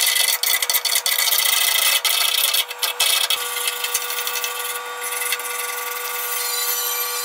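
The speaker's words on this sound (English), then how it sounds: "now it's time to scrape everything down, clean it all up" A metal wire brush or scraper scrubs and scrapes flux core weld beads clean in rapid, harsh, repeated strokes, loud and close, with short pauses between bursts and no talking.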